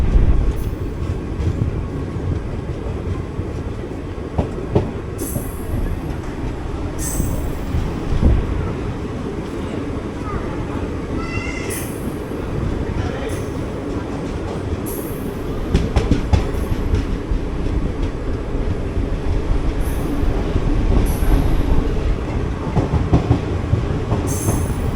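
The 17230 Sabari Express rolls along the line into Nalgonda station, a steady loud rumble of wheels and carriages with rail clatter and several high brief wheel squeals throughout, heard from on board.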